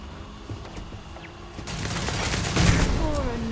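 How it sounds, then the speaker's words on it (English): Sci-fi firefight in the video game Starfield: dense, continuous gunfire bursts swell louder and build into a sustained rumbling barrage, with faint voices mixed in. "Open fire!"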